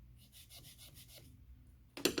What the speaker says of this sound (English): The objective here is to sand down to the bottom of the groove and no more.